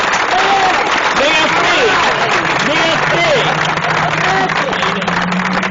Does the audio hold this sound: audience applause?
yes